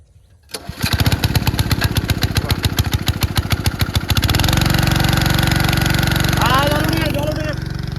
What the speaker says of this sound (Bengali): হ্যাঁ তাহলে স্টার্ট দিয়ে দিচ্ছে। দাও দেখি, নতুন কলের মেশিন।